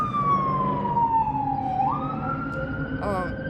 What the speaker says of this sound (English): Sorry, I'm waiting for the siren to stop.